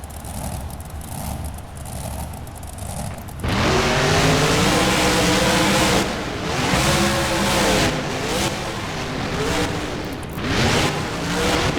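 Monster truck engines roar in a BeamNG race between Gravedigger and Spider-Man at Lincoln Financial Field, loud and close. A quieter idle gives way to hard revving and repeated rising-and-falling acceleration.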